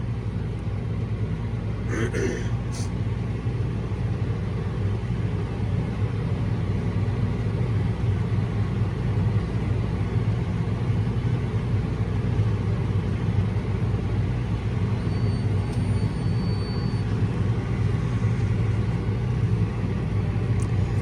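A CLAAS tractor creeps along at a slow 4–7 km/h, its engine and drivetrain giving a steady, moderate low rumble that stays constant throughout with no strong changes in pace.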